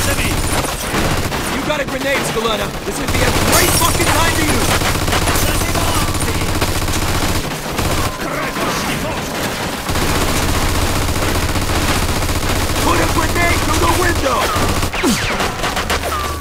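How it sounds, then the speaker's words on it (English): A machine gun in Mafia II, set in wartime Italy, hammers away in dense, sustained near bursts with overlapping gunfire and brief lulls, while soldiers shout to each other over the shooting. "Looks like we found the machine gun! Watch it!"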